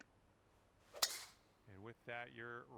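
A golf club strikes the ball on a tee shot in PGA Tour 2K23, a single sharp crack near the start followed by short bursts of speech.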